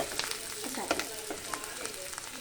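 Food fries in a pan while a utensil stirs it, giving a soft, steady sizzle with a few scraping strokes, fairly quiet and close, with no talking over it.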